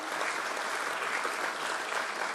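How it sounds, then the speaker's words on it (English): An audience applauds at a company's stock listing ceremony, a dense, even burst of clapping from many hands, loud and sustained throughout. "I think it deserves a big round of applause."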